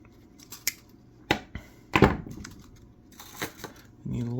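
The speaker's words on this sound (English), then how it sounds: "We then are going to take our wire, cut us off a section of it, about 8 inches long or so." Scissors snip a short length of wire while tying a Pat's rubber legs fly, a few sharp clicks and cuts close up with light handling noises between them.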